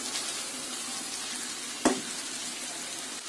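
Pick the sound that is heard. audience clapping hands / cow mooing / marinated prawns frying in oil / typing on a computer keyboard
marinated prawns frying in oil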